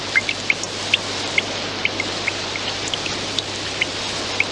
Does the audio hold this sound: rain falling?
yes